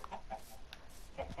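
Chickens give a few soft, scattered clucks close by, quiet and brief, with faint background noise between calls.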